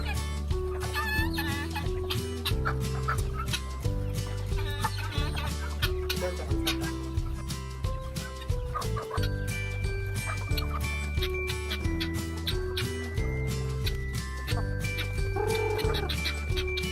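White and black chickens clucking on a farm, with repeated clucks and gargling calls mixed into dense background music or sound that plays continuously.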